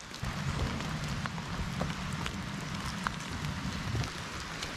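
Light rain pattering on an ice-coated tent, about 0.2 inches of ice, during a night test of a Litefighter Catamount 2 tent; a steady, fairly quiet patter with occasional sharper drop ticks and no voices.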